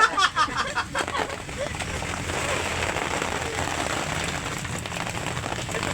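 Rain falls steadily at a campsite in Malolos, a dense continuous patter after a brief burst of louder crackly drops at the start, with faint voices mixed into the wash.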